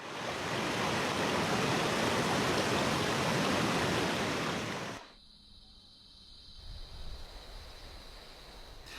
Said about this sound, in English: The stream among the pebbles rose rapidly.